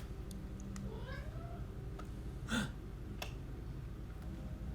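A Loth cat from the Star Wars Rebels animated series lets out a couple of short, fairly close meows and a sharp yowl over a low steady background hum.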